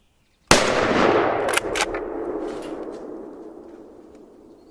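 A single sharp, loud hunting rifle shot cracks out after a brief silence during a roebuck hunt, followed by a long rolling echo that fades slowly into the distance.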